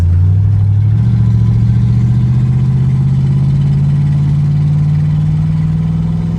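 A Chevrolet Corvette with an LT1 V8 and a freshly replaced Optispark distributor runs smoothly, a steady loud low engine drone whose pitch rises gently as it pulls away.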